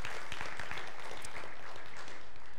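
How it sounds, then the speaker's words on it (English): A church congregation applauds, steady dense clapping at moderate loudness across the whole moment, with no speech over it. "would you give them a big round of applause?"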